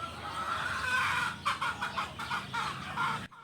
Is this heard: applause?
no